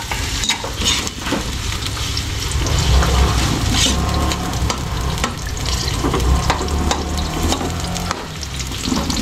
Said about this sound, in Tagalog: kaya muna natin itong mag golden brown yung bawang sibuyas